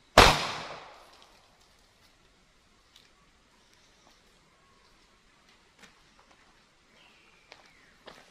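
A single loud, sharp report from a Taurus GX4 pistol at a shooting range at the start, decaying quickly into near silence, followed by faint scattered small clicks and knocks.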